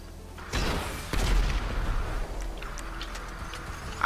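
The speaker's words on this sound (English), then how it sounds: "I heard an explosive." Explosion in GTA 5 Online: a sharp boom at the start followed by a second heavy blast and a rumbling, crackling decay, moderately loud, with faint ambient game sounds trailing after.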